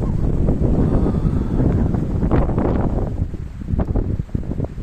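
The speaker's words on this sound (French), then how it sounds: "On entend tous les bruits de feuillage et de branches qui bougent." Wind gusts through a forest, rustling leaves and branches in a broad, continuous roar with strong wind buffeting on the microphone.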